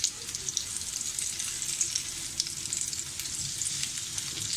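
Poha and potato cutlets shallow-frying in a pan give a close, steady, bright sizzle. It runs evenly with small pops scattered through it, and no one speaks.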